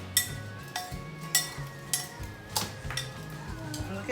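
Seasoned taco topping with olive oil and salt being mixed in a bowl, a spoon clinking against the dish in an irregular series of sharp taps, fairly close and clear.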